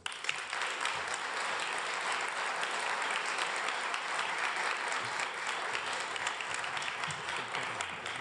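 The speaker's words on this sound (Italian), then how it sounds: "Invito sul palco con un caloroso applauso il testimone Davide Renati" Warm, sustained applause from an audience welcoming a speaker to the stage at a public event in Rome, dense steady clapping filling the room for the whole stretch with no voices over it.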